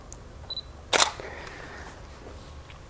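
A Canon DSLR in a studio tethering setup fires its shutter once, a sharp close mechanical clack, preceded by a faint electronic beep in a quiet room.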